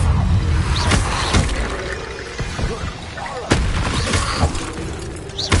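Bombarda explosion spells going off in Hogwarts Legacy combat, several sharp, heavy blasts with crashing debris at uneven intervals, loud and close amid continuous game noise.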